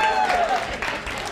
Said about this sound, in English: Clap it up for Jaime.